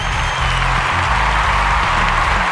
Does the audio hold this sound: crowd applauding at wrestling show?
yes